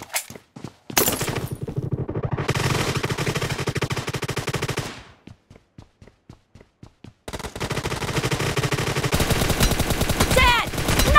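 Rapid automatic gunfire in the mobile shooter game PUBG Mobile, loud sustained bursts broken by a run of separate single shots, then more heavy continuous firing toward the end.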